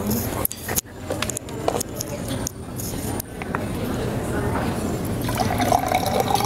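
Water fills a glass during a casual meal, a gurgling pour with small splashes and a rising pitch toward the end, heard close up while people talk in the background.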